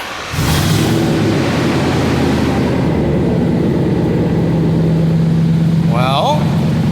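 A 1998 Ford F150 idles with its engine and exhaust running. The low, steady rumble is loud and close, starting abruptly and holding evenly, with a brief high chirp near the end.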